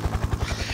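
Helicopter unit in the Civilization V strategy game, a brief steady rotor chop with rapid regular low thumps, fairly loud and heard alone.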